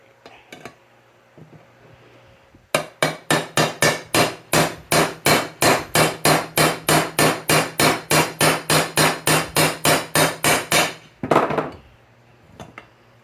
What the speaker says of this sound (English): that, ladies and gentlemen, is how you properly hammer the bearing